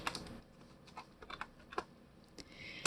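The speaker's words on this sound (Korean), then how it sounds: "자, 타이핑은 이렇게 완성이 됐고요." Typing on a computer keyboard while filling in an Excel 2016 spreadsheet during ITQ exam practice: a steady run of irregular, close keystrokes and clicks with no talking.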